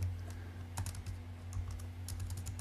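Typing on a computer keyboard while writing code inside a try block, a quick close run of light key clicks over a low steady hum, with no talking.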